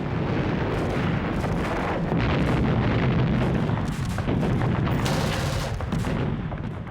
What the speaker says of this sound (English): As landing craft approached the main beach, they were met by withering fire.